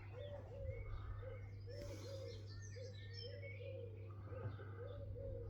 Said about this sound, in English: Look at them birds.